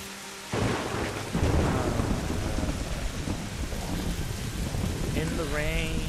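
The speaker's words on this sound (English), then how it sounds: "In the rain," Heavy rain pours steadily in a forest in Tomb Raider after a sudden start, with rolling thunder rumbling underneath and a faint tonal sweep near the end.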